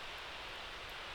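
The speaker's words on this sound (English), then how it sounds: "that is the sound of water down below" Creek water rushes far down below a very steep descent in Loyalsock State Forest, Pennsylvania, a steady soft hiss of distant flowing water with no other sounds.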